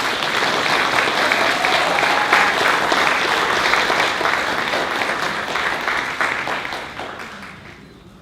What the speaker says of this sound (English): please, everyone, give Dr. Jamie a warm round of applause.